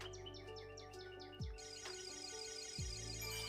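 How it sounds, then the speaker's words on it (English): Small birds chirp and tweet in a quick repeating pattern, fairly close, over a steady background hum and a couple of low thumps. "Yes, they're real birds."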